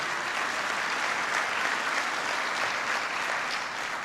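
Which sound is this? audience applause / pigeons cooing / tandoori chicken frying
audience applause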